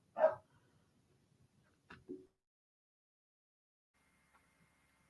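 Dog at home giving one sharp bark, then after a pause a couple of softer, shorter yips, all separated by near silence.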